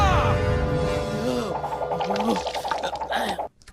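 A newborn calf on a village farm gives a loud, drawn-out bawling call that slides in pitch, followed by shorter, wavering cries before it cuts off abruptly.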